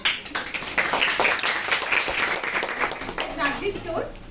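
Classroom students applaud a classmate during a lesson: a short burst of scattered hand clapping close by, mixed with voices and chatter, tapering off after about three seconds.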